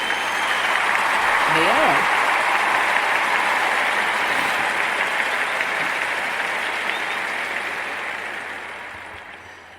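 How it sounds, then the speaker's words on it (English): Audience applause at a city government meeting on racism and hate crimes, a steady broad wash of clapping that holds for most of the stretch and slowly tapers off, with a short spoken phrase near the start. "Let's give them a round of applause."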